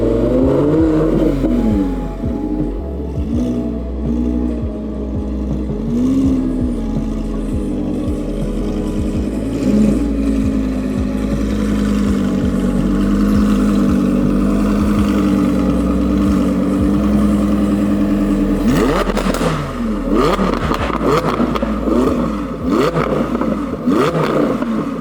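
An Audi R8 fitted with a Capristo exhaust drives past and pulls away, its deep engine note rising and falling through repeated revs and gear changes, loud and close, with sharper rasping bursts near the end.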